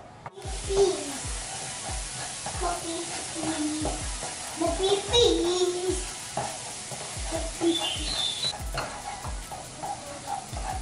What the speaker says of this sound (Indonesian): Ini kita akan tumis sampai dia matang dan berubah warna.